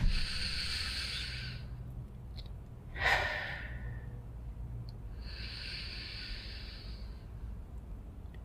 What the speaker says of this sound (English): I like to transition from one space to another with a few deep breaths